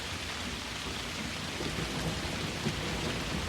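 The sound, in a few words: thunderstorm with heavy rain, sound effect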